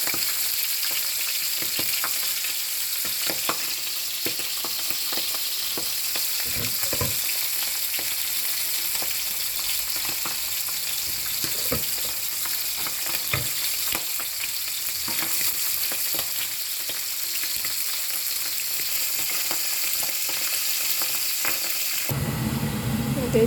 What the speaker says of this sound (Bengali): তো এদিকে আমার মাছগুলো ভাজা হয়ে গেছে, আর এদিকে পেঁয়াজটা একটু ওই যে আমি ভাজা ভাজা করে ফেলেছি